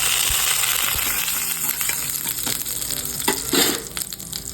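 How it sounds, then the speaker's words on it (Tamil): Whole spices (cinnamon, cloves, fennel seeds) sizzle and crackle in hot sesame oil, a steady frying hiss broken by occasional pops and stirring. "எண்ணெய் காய்ச்ச பிறகு பட்டை கிராம்பு சோம்பு அதில் போட்டணும்."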